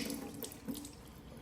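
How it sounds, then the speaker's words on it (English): Dirty water from a BISSELL Little Green Mini portable carpet cleaner's tank pours into a sink, a steady close splashing and gurgling stream with no talking. "Just everything drains in the sink."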